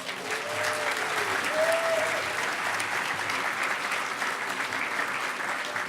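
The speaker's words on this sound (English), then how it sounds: "round of applause for Bernie and the EFF" Audience at the 2012 HOPE Number Nine hacker conference closing ceremony applauds in a steady, dense wash of clapping that holds evenly for the whole stretch.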